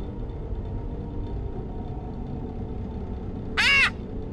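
A single brief, loud squawk from a pet bird in Five Nights at Freddy's Ultimate Custom Night, rising sharply over a low steady rumble near the end.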